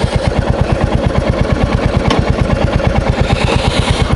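A 2024 Royal Enfield 350 Bullet motorcycle engine idles close by, giving a steady, even train of deep low thumps with no talking.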